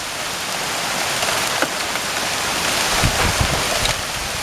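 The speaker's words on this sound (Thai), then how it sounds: "ผลลูกเห็บครับผลลูกเห็บ" Fingertip-sized hail pelts a roof during a storm in Mae Taeng, Chiang Mai, producing a dense, steady roar of impacts with a few sharper clatters standing out near the end and no talking.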